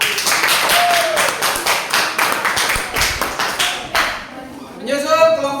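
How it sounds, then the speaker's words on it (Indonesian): Classroom group applauds the second student group after a presentation, a few seconds of brisk, close clapping that fades out, followed by a brief voice. "Tepuk tangan untuk kelompok 2"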